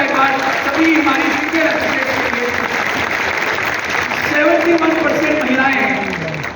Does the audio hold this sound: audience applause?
yes